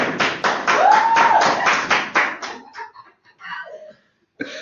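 Students in a university lecture audience clap in a dense, loud burst for about two seconds, then the applause thins into scattered claps and taps before a final single knock.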